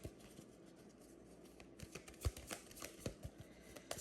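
A deck of cards being shuffled, soft riffling and flicking with a few sharper snaps near the end, quiet and close with no voice over it.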